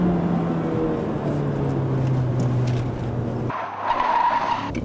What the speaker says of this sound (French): Le DSC s'est déclenché, on sent les mâchoires de frein qui agissent sur les roues, qui glissent.